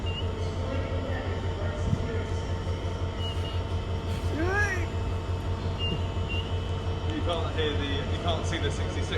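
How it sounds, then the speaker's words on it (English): A diesel-powered Pendolino train at Rugby station idles and rumbles steadily with a low engine drone and tonal hum, a brief squealing tone rising midway; faint voices murmur beneath the continuous mechanical noise. "it sounds like it's a diesel-powered Pendolino"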